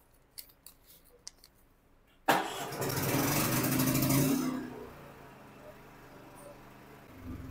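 A 3,200-watt inverter generator started by push button: scattered clicks, then an abrupt loud start into a steady roar that settles to a quieter idle after a couple of seconds.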